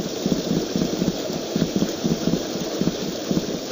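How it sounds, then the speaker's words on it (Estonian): Rain falls steadily, a continuous patter with small rhythmic clusters of drops, fairly close and moderately loud, with no voices. "Korraga hakkas taevast vihma sadama."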